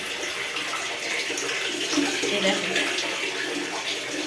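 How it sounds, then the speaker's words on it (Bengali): Water pours steadily into a deep, room-sized cement tank, a continuous hollow splashing rush that stays near and fairly loud throughout. "দেখো বন্ধুরা দেখো বন্ধুরা জল ভরা হচ্ছে"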